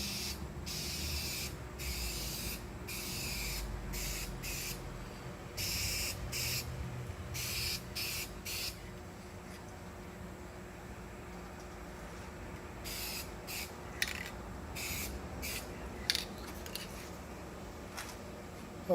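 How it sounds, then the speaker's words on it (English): Spray gun bursts laying a coat of paint on a fiberglass repair on an RV shuttle bus conversion: repeated hissing blasts, some short and some longer, separated by pauses over low background noise. "We're not spraying for coverage right now. We're just going to put a coat on it and let it dry up."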